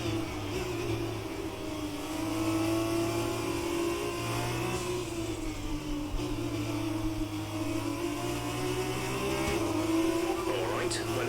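An F2 race car engine in F1 2020 at Silverstone in the rain holds a steady mid-pitched drone, wavering slightly as revs shift, while a voice talks over it throughout.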